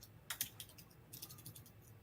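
Quiet clicking taps on a computer keyboard, a short irregular burst of keystrokes followed by a few more scattered presses, close up and alone.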